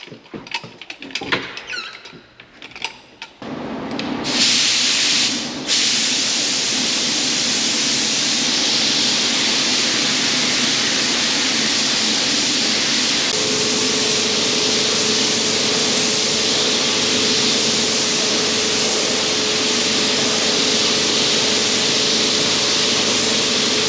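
A steady hiss of spraying epoxy primer runs loud and continuous after a few sharp mechanical clicks, like a spray gun laying down a coat on a 1930 car's steering area.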